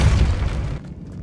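A Depulso spell blast in the video game Hogwarts Legacy lands as one loud, deep boom that holds for under a second and then cuts away to a quiet tail.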